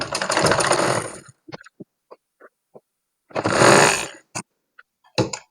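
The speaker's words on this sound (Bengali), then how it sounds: "সেলাই শুরুতে কিন্তু অবশ্যই ব্যাক স্টিচ দিতে হবে।" Domestic sewing machine stitching a three-layered baby frock: two sustained bursts of rapid motor-driven needle chatter, separated by a quiet pause with scattered small clicks and taps of fabric handling. No voices.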